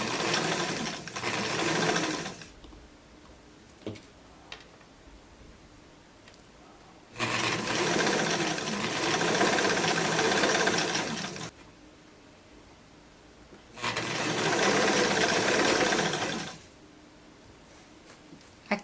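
A sewing machine stitches fabric in three bursts of steady rapid running, each a few seconds long, separated by quieter pauses with faint handling noises.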